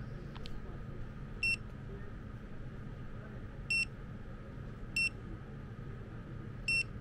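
A WINAPEX 268B clamp ammeter emits four short, sharp electronic beeps at irregular intervals after switching on, standing out against a steady low background hum.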